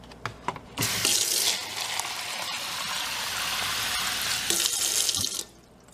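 Water pours steadily off fermenting cucumber seeds for about five seconds, a close, splashy running stream preceded by a few light knocks, with no voices.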